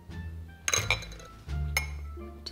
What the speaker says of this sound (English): I'll just wait till you're ready to cheers me.